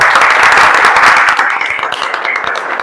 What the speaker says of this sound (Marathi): या सेंटरसाठी एकदा जोरदार टाळ्या झाला